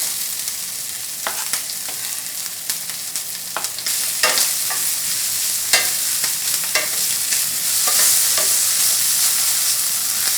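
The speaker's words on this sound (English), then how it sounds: "I sauteed this kelp for 1 minute over medium high heat, and then I add garlic and onion." Kelp, garlic and onion sauté in a pan over medium-high heat, with a steady sizzle under repeated spatula scrapes and stirring strokes, close and clear, and no talking.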